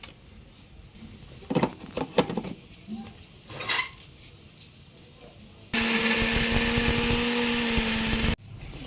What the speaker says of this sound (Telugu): మనం ఇందులో వేసుకొని ఇప్పుడు దీన్ని మిక్సీ పడతా